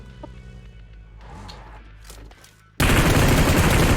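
PUBG Mobile gunfire: after quieter in-game sounds and footsteps, a sudden loud burst of rapid automatic shots erupts and continues to the end, dense and close.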